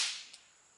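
A single sharp crack of a subsonic rifle bullet, heard as a bright burst that decays quickly into a faint ringing tail, with a small second tap just after.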